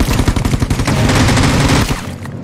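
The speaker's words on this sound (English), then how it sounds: "I almost died in his shotgun." Rapid bursts of shotgun and mixed gunfire in the battle-royale video game Rules of Survival, loud and dense, with close repeated blasts over about two seconds before a quieter tail.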